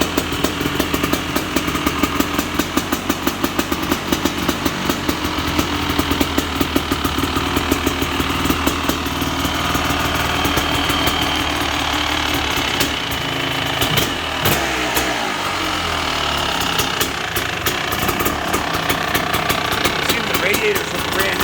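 Kawasaki KX500 two-stroke dirt bike running just after its first kick start, a loud, close, rapid crackling idle with throttle blips and revving swells, while someone talks now and then.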